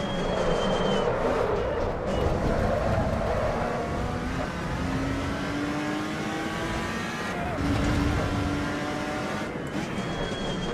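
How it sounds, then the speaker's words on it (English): Turbocharged V6 of a Lotus Exige V6 Cup in a racing video game, engine droning and shifting continuously with brief whooshing releases between gear changes, loud and steady throughout. "I think I started a blow-off valve."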